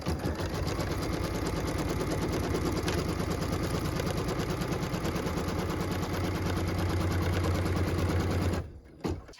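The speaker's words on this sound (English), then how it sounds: "What we're stitching now is the tack down line for piece number 3" An embroidery machine sews a tack-down line on a quilt block, a steady rapid mechanical stitching chatter running close and loud for about eight and a half seconds before stopping abruptly.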